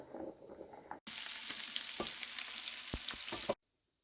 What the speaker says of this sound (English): Spuds are boiling away nicely